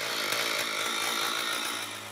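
A chainsaw runs close by in Irkutsk, Russia, buzzing loudly and steadily as it cuts through wood.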